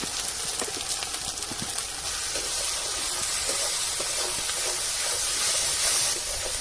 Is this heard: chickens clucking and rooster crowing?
no